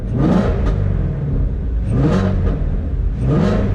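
A Ford Mustang GT350 with its active exhaust valves closed revs three times in steady succession, each loud, rising engine surge falling back to idle between blips.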